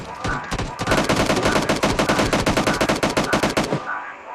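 Rapid bursts of automatic gunfire in the video game PUBG rattle continuously for about four seconds, loud and close, with sharp repeated cracks in a fast steady rhythm.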